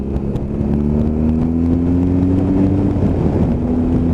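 A BMW R1200GS motorcycle accelerates through the gears, its engine drone rising steadily in pitch, close and loud, accompanied by heavy wind rush and no talking.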